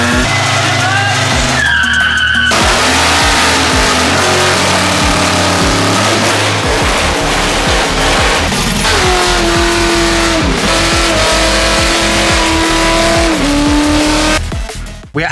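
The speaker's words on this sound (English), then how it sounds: "We're going to do skids at Burnout Performance" A 500hp V8 car does a burnout, its engine revving hard while the tires squeal and skid continuously. The noise is loud and close and goes on throughout, with brief dips between revs and voices faintly underneath.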